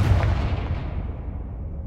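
A Confringo blasting spell in Hogwarts Legacy goes off as a single loud, close explosion whose rumbling boom decays over about two seconds.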